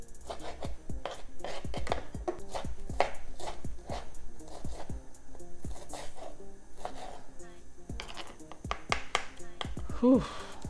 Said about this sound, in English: So now I'm going to cut the pepper.